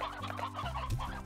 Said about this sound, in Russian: выпустим сейчас вот этого цыпленка одному